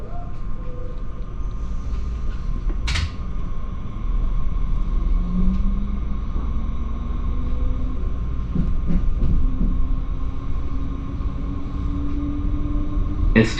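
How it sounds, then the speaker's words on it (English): An S-Bahn Stuttgart class 430 electric train runs along the line, a loud continuous rumble with whining motor tones sliding upward and occasional clicks, heard from on board. "we can listen to the sound of the class 430 of the S-Bahn Stuttgart"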